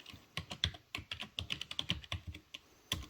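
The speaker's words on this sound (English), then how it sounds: "Please enter your name using the keyboard." Someone types a name on a computer keyboard at a simulation center, about a dozen crisp, irregular key clicks close by, with short pauses between bursts and no voices.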